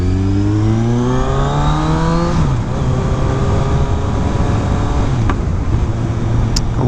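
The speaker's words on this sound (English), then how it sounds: "A little pop there between second and third gear." 2018 Kawasaki Ninja 1000 with a flashed ECU accelerates hard, engine pitch rising then dropping at the shift from second to third gear, with a brief pop before the revs climb again, loud and close.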